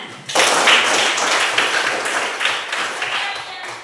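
Classroom applause in a religious education lesson, a dense burst of many hands clapping together, loud and close, sustained for a few seconds after a sharp start.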